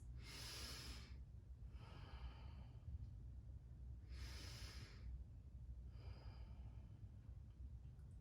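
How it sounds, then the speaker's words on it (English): Slow meditative breathing in a kids' yoga class, with two long, airy breath cycles, each a soft inhale followed by a longer exhale, faint and close over a low background hum. "they meditated all day long, breathing just like this"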